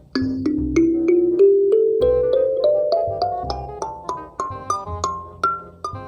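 A kalimba fitted with a curved bridge plays a rising run of plucked tines, each note ringing with a bright attack and short sustain, close and clear with no talking.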